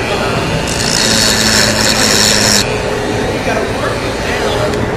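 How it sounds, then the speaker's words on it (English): A Dremel rotary tool grinds out a scratch to prepare it for a glue repair, a high whining buzz lasting about two seconds over steady background noise, with a voice talking over it. "We have to use a Dremel in case of scratches"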